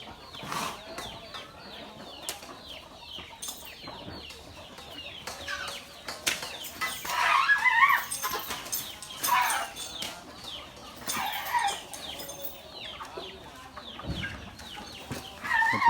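Chickens cluck and squawk, some with wing flaps, as they scatter while being chased by an elephant outdoors, with rustling and background noise throughout.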